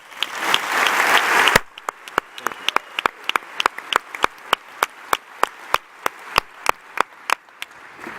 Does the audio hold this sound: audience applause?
yes